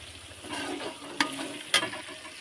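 Biryani ingredients sauté in a pan with a continuous soft sizzle, punctuated by two sharp clacks of a utensil striking the pan about half a second apart.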